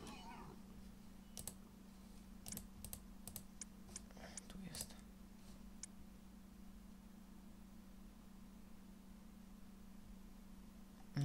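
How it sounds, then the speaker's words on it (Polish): Computer keyboard keys clatter in a short burst of clicks with a space bar press while a Harry Potter and the Philosopher's Stone game plays, over a steady low hum, followed by quiet. "Musiałem spację nacisnąć."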